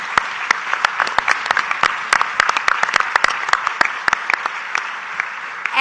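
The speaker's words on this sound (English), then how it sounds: "Let's give them another big round of applause." A rally crowd applauds at a Bernie Sanders event in South Carolina, a thick continuous wash of clapping with sharper nearby claps standing out throughout.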